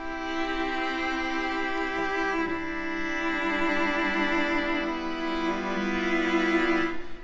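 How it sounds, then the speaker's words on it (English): Sustained virtual cello section from the Spitfire Audio Labs cello mood patch, MIDI strings playing a rich, slowly swelling chord with a subtle shift midway; no voices. "I really love in particular this cello mood."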